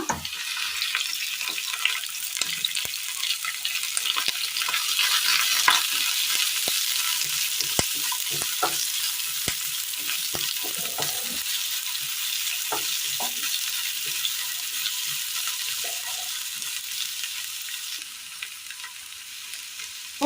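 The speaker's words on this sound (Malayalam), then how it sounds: "സബോളയും മുളകും ഇട്ട് കൊടുത്തിട്ടുണ്ട് അല്പ എണ്ണ" Sliced onion and green chili fry in a little oil in a pan, giving a steady bright sizzle with frequent stirring clicks and scrapes, close up, with no one talking.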